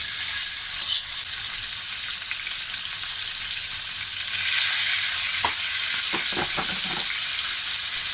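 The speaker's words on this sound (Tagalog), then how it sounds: "Then, prituhin natin itong ating pork belly." Pork belly fries in a pan with a steady close sizzle and crackle, a few louder pops and spatters near the end, and no voices.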